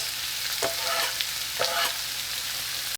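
Garlic and tomatoes with their juices frying in a pan for Mexican tomato rice, a continuous sizzle broken by several sharp stirring scrapes and clinks at irregular intervals, with no voices.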